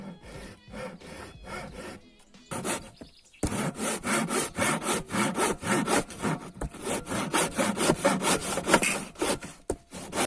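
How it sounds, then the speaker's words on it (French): A hand saw cuts through wood for a raft with rhythmic rasping strokes, briefly pausing before resuming steady, vigorous back-and-forth sawing up close. "on va directement couper ça ici, avec la jolie scie qu'on a là"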